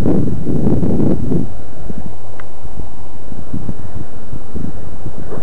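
Strong gusting wind buffeting an outdoor microphone at a model plane flying field, a loud low rumble that surges in the first second and a half, then settles into lighter fluttering bursts.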